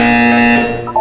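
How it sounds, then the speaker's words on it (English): A harsh, loud electronic buzzer from the video game Portal 2 sounds once for about a second and then cuts off abruptly. "You will hear a buzzer."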